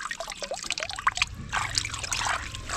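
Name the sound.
water pouring into a barrel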